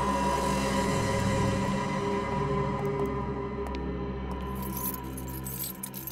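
Keys on a broken keychain jangle and clink close by for several seconds, a bright metallic rattle over a steady low background hum, with no talking.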